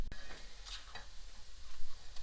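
Garlic stirred in a pan with a spoon, soft scraping and a gentle sizzle in a brief close stretch.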